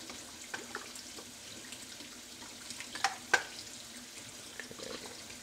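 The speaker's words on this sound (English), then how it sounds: "Go ahead and submerge these now." Glass candle jars with leftover wax sit submerged in water, giving faint watery trickling and sloshing with a couple of soft clinks of glass, quiet and close.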